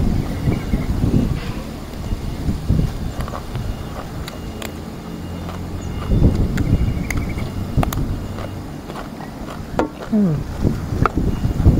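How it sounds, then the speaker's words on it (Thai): Dry, cool wind buffets the microphone and shakes the camera outdoors at a rural Thai home during a wasp-nest hunt, with rough low rumbling gusts swelling and easing throughout, loud and close. "ลมแห้งครับ"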